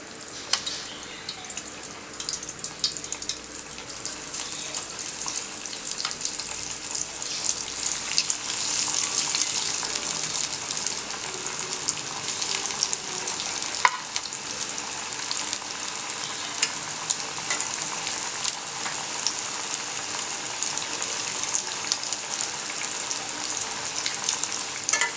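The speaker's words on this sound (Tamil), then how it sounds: "இப்போ வந்து எண்ணெயில் ஃப்ரை பண்ணிக்கலாம்" Breadcrumb-coated yam pieces deep fry in hot oil, giving a continuous dense bubbling sizzle that stays steady and close throughout, with no talk.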